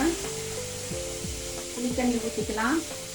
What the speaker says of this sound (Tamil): கொஞ்சமாக ஒரு 2 ஸ்பூன் இருக்கிற மாதிரி புளி தண்ணி ஊற்றிக்கலாம்